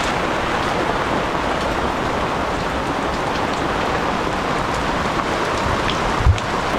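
Heavy wet-season rain in the San Blas archipelago pours down in a dense, constant hiss, loud and close with no pauses, a faint low rumble near the end.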